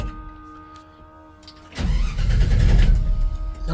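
A 1966 Chevy C10 pickup engine cranks over without firing, a loud sustained churning rumble that kicks in suddenly after a quieter opening and keeps grinding steadily to the end.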